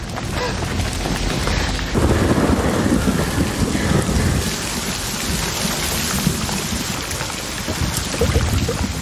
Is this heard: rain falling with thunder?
yes